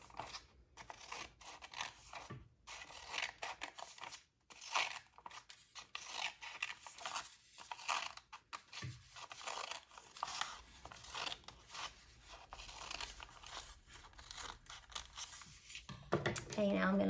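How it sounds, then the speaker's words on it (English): Scissors cut through paper for a paper lantern, a series of quiet close snips and crinkles spaced out while a person talks. "I'm gonna pull out my scissors, and I'm gonna do that again"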